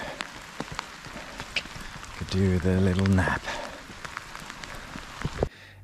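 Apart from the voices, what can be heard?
heavy rain falling during a night track run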